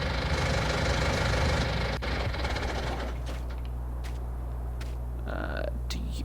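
A tractor engine idles in a farming video game with a steady low mechanical rumble and a ticking knock throughout. Louder broadband noise dominates the first few seconds, and brief clicks follow.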